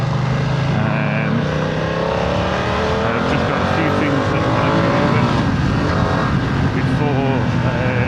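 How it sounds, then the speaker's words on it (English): A BMW F900R motorcycle engine with stock exhaust idles and revs loudly up close, a steady rumbling roar that rises and falls in pitch throughout. "today is going to be just a video on the stock sound of the bike"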